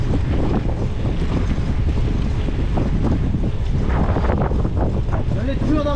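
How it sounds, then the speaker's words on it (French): Strong wind buffets the microphone throughout a mountain bike ride near Mesnil-Esnard, a loud, continuous rumbling roar with faint voices underneath. "j'en ai marre de voir le vent dans la gueule"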